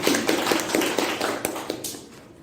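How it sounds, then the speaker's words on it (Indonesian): Students in a university microteaching classroom give a round of applause, with brisk, evenly spaced claps that ring out clearly before thinning and fading at the end. "Tepuk tangan untuk semuanya."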